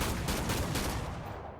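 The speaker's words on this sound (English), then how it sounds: "Every gun sounds different and feels good." Gunfire from the video game Killing Floor 2 rings out as a loud, dense burst of rapid shots that fills the moment and tapers slightly at the end, with no talk over it.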